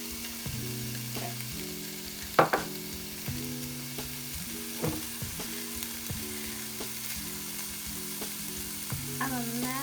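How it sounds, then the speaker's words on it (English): Spices for vegan chana masala fry in a pan, giving a steady sizzle while a utensil stirs and scrapes at intervals with a few sharp knocks, close and moderately loud, no voices. "We're only gonna cook these spices for about a minute. So they don't burn up."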